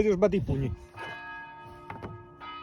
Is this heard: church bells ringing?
yes